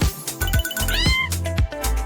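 A cat meowing in short bright bursts, several rising and falling cries in quick succession, loud and close amid a busy, cluttered background.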